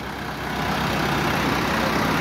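A Massey Ferguson 385 tractor engine idles steadily with a low, continuous rumble, loud and close, with no talk over it.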